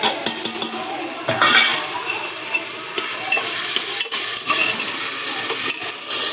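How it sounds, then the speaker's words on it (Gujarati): Tomatoes go into a pan of sautéing vegetables, with loud, close stirring scrapes and utensil clinks over a continuous sizzle and no talk. "એમાં હવે આપણે ટમેટા એડ કરી દઈએ"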